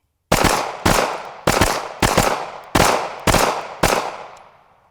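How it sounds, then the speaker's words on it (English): Seven handgun shots fired in a shooting drill at a target, sharp loud cracks spaced about half a second apart, each ringing out with a short echo before the next. "now you're starting to shoot that hole out of the target"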